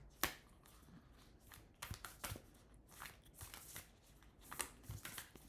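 Tarot cards shuffled and drawn by hand in a quiet room, a run of soft riffling flicks and sharper snaps spaced irregularly, close and fairly faint with no voice.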